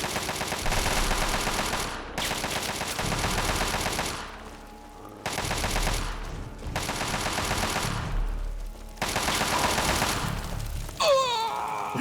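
Gunfire in Fallout: Tale of Two Wastelands, heard as several long, loud, sustained volleys of rapid shots separated by short gaps, with a brief sharp sound near the end.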